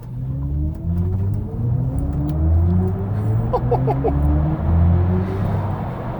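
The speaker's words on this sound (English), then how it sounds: "This is the BMW i4 M50 and I'm going to launch it." A BMW i4 M50 electric car launches off a ramp and accelerates hard toward 60 mph, heard as a loud, steadily rising electric motor whine with road roar underneath, along with a few brief higher chirps midway.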